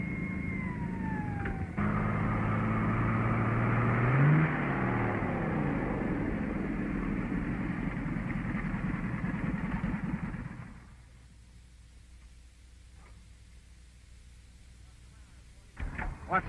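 A car engine roars steadily at speed with a falling whine, then the engine note drops away as it slows and goes quiet, followed by faint rustles and a few knocks.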